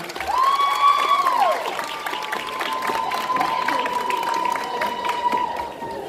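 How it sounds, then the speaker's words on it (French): Audience at a cosplay contest applauds steadily for about six seconds, with cheering and a drawn-out whistle-like tone rising above the clapping, while voices carry underneath. "Et on applaudit bien fort!"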